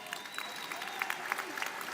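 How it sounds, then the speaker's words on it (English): Commencement audience applauding at a December university graduation ceremony, a steady patter of many hands in a large hall, moderately distant with faint crowd murmur and a voice briefly audible. "Let's give them a big round of applause"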